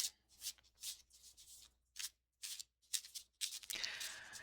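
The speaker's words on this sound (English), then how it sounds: "So let me just give this deck a quick shuffle." A tarot card deck is shuffled close by in a quiet room, giving a series of soft riffling, rustling bursts separated by short pauses, ending in a longer continuous riffle.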